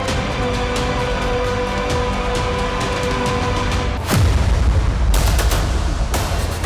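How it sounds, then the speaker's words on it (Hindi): Gunfire crackles on a road in Prayagraj during a shooting, rapid repeated sharp shots over constant loud background noise. A heavier burst of bangs comes near the end. "रोड पर फायरिंग हो रही है और लगातार गोलियां दागी जा रही हैं।"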